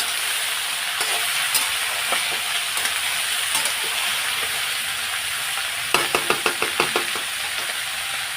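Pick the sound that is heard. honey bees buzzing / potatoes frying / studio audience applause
potatoes frying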